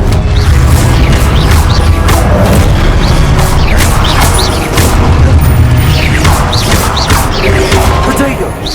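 A Confringo explosive spell blasts in Hogwarts Legacy gameplay, a loud dense stretch of booming impacts and crashing bursts that repeats throughout, with game sounds layered on top.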